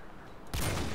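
Gunfire in Modern Warfare 2 on PC: a short, abrupt burst of loud shots cuts in halfway through after a low background hum.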